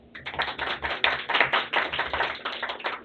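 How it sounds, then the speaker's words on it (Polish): Audience applause at a talk about wood, a dense patter of many hands clapping steadily for about three seconds, fairly loud and alone with no voices. "Oklaski."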